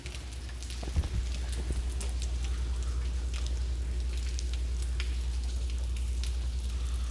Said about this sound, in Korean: 그러니까 비가 계속 내리고 있네요.